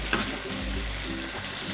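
Chili and tomato for tempeh sambal fry in hot oil in a home kitchen at night, giving a steady close sizzle with light stirring scrapes and no talking.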